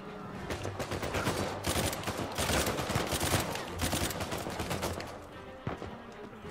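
Sustained gunfire in the video game Uncharted 4, dense bursts of automatic fire layered over one another, loud and near, easing briefly before resuming with a sharp single shot near the end.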